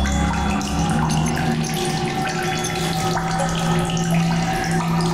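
Steady running water in the sci-fi survival game The Solus Project, a continuous loud broadband rush with a low hum beneath, unbroken and alone with no talk.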